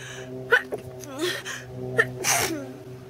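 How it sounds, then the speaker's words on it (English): A person gasps and builds up with a few sharp inhales, then lets out a loud sneeze near the end, close and alone. "I'm gonna sneeze."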